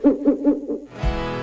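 An owl hoots four times in a steady, evenly spaced rhythm, close and clear, as part of a radio show jingle; a burst of music follows.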